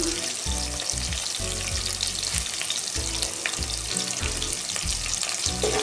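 Curry leaves and onion sauté in a pan for lemon rice, giving a loud, continuous frying sizzle with rhythmic spatula stirs scraping through it.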